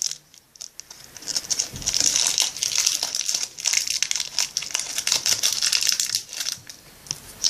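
A crinkly plastic wrapper on a pizza-shaped candy is twisted and pulled open, dense close crackling and rustling bursts continuing for several seconds.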